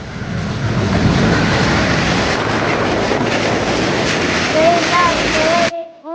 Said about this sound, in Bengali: তো কিছুক্ষণের মধ্যে আর কি একটা ট্রেন চলে আসে।